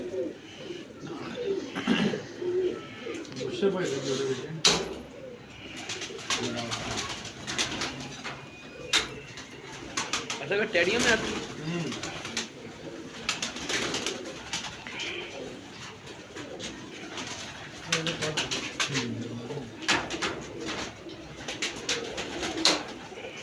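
Lal Pari pigeons cooing repeatedly in a loft, soft throaty coos layered over one another with occasional wing flaps, while someone talks intermittently over the birds.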